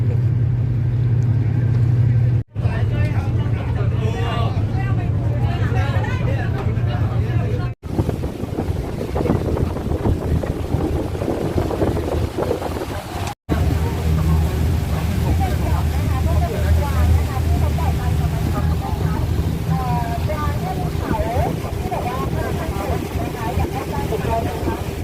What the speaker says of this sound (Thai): สปีดโบ๊ทก็มา เทียบเรือกาตามารัน เพื่อจะ รับนักท่องเที่ยวนะครับ